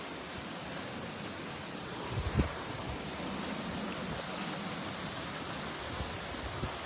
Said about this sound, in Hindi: ज़बरदस्त तेज़ बारिश हो रही है।